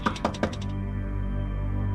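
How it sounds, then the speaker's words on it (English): Three quick, sharp knocks on a door, close and distinct, followed by a steady low musical drone with no voices. "there's a knock at the door"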